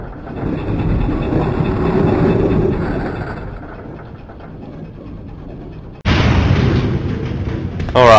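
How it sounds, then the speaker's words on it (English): A tram in the Resident Evil 2 video game rumbles along loudly, fades down and goes quiet, then a sudden heavy burst of noise takes over near the end. "the tram has stopped and we can leave"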